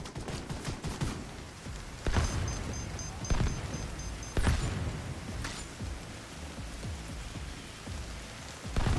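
A gun emplacement in The Division 2's Battle for Brooklyn fires sporadic heavy bursts over a continuous hissing, rain-like background, with several sharp blasts standing out at irregular intervals.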